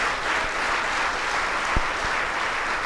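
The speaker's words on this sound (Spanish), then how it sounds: "Aplauda al Señor." A church congregation applauds, a dense, steady patter of many hands clapping throughout the short burst, with a few faint thumps underneath.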